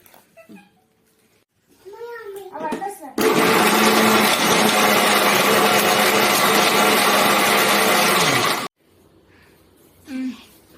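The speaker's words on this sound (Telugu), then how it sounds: "ఇందులో కొద్దిగా వాటర్ వేసి మిక్సీ పట్టుకోవాలి" A kitchen mixer grinder whirs loudly and steadily for about five seconds, grinding a spice paste with a little water for a fish curry, with brief talk before and after the motor runs.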